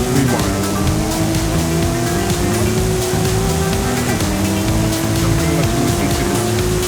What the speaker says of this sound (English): Very old Porsche